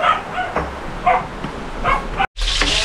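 A dog barks repeatedly in short yips at a steady pace, fairly close, over a constant background of rain during a storm in Bicol, Philippines.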